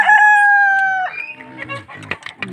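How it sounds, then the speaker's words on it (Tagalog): Farmyard chickens outside, a rooster crowing once loud and close with a long held call, followed by scattered hens clucking and squawking nearby. "pinalabas natin yung mga manok natin."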